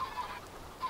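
Honking, clucking fowl sounds from chickens in the Minecraft video game, a few short calls near the start and again near the end over a steady background.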